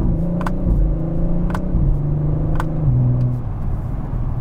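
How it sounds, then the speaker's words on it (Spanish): A 2021 Audi RS5 accelerates hard through its seven-speed dual-clutch gearbox, the engine drone rising then dropping abruptly at several quick shifts, each marked by a short crackle, heard from inside the car without talking. "La velocidad con la que cambia un dual clutch ya está engranada a la siguiente marcha."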